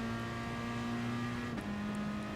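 Race car engine in a racing video game at Monza, a steady sustained engine drone holding one pitch, then a brief dip as the car brakes for the Ascari chicane, with a slight shift in tone after.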